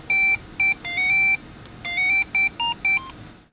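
Opening theme of the Coleco tabletop Mario's Cement Factory video game: a short, bright electronic beeping melody of clipped square-wave notes in a quick rhythm, played alone.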